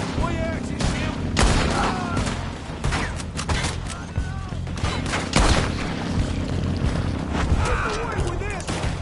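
Rapid gunfire bursts and volleys from a Red Dead Redemption shootout crack repeatedly through the whole stretch, loud and close, with overlapping shots and booms mixed with game music.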